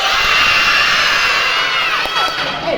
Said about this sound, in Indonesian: Tepuk tangan sambil teriak, yeay.